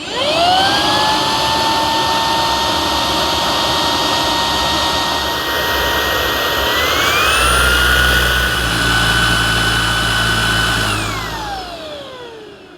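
Simplicity S65D cordless vacuum cleaner running on normal suction with its inlet blocked, a loud steady motor whine that holds a high tone, shifts up in pitch partway through, then spins down near the end.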